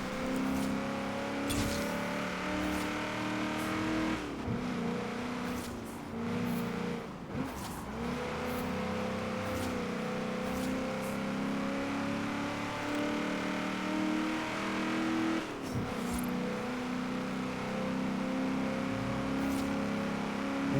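A Ford Mustang engine revs hard and steadily in the racing game Forza Horizon 3, droning through a construction site with gear shifts and brief dips in pitch, loud and close, with no talking.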